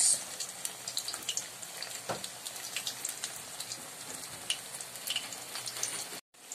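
Luncheon meat frying in a pan until golden brown, a steady soft crackle and sizzle with scattered pops, close and moderately quiet, no talking.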